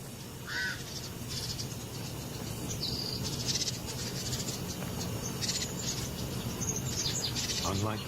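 Crows caw repeatedly around a caracal in the Namibian desert, their harsh calls rising in scattered bursts over a steady hiss of insects and open wind.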